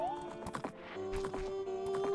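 The horse Epona whinnies in The Legend of Zelda: Ocarina of Time, a short game neigh heard over quiet in-game music with faint hoof clip-clops.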